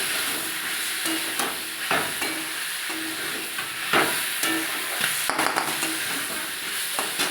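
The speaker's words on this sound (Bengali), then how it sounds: "যতক্ষণ না মাংসটা ভালোভাবে ভাজানো হচ্ছে এরকম নাড়তে থাকবো।" Meat frying in a pan is stirred continuously, a steady sizzle broken by repeated scraping strokes of the spoon against the pan, close and moderately loud, with no talking.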